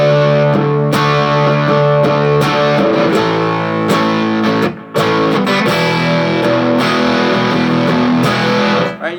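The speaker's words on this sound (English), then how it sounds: "you could come in real hot with like a distortion pedal. I got a little Wampler pentacle pedal here" Electric guitar chords ring through a Wampler Pentacle distortion pedal, loud and sustained, struck in a steady strumming pattern with a brief break midway before the chords resume.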